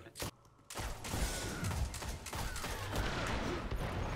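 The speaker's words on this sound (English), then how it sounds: "I'm over here using a fusion rifle and a No Land Beyond." Rapid fusillade of sci-fi gunfire and weapon mechanisms from a fusion rifle and sniper rifle in a Destiny multiplayer match, loud and dense throughout with bursts overlapping, after a brief quieter opening.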